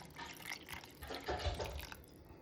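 Water poured from a glass, about three-quarters full, into peanuts with salt for a microwave peanut chutney, a steady close splashing trickle throughout with no talk.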